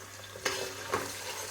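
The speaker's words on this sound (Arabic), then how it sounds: "بنقليهم شوي." Chopped onion, potato and carrot frying in hot oil as lentil soup begins, with a steady close sizzle and two distinct stirring scrapes of a utensil through the vegetables in the pan, no talking.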